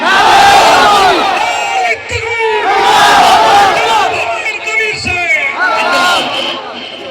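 A huge crowd at a Babri Masjid rally roars back a Takbir chant in long, loud, ringing shouts, two or three surging waves with brief dips between them.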